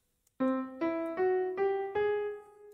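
Five bright, sustained notes of a major scale rise in steady steps, each struck cleanly and ringing with rich overtones, played alone without any voices.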